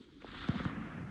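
A single rifle shot rings out during a nighttime thermal coyote hunt, a short muffled boom that decays quickly into the outdoor background.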